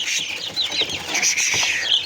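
Australorp chicks, fifteen days old, on a farm, peeping in a dense, steady chorus of high chirps with a few louder calls standing out nearby.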